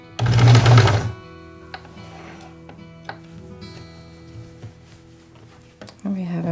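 Sewing machine stitching quilt blocks together for a pastel spring roses quilt, a loud burst of rapid stitching for about a second, then quieter handling sounds and a voice talking near the end.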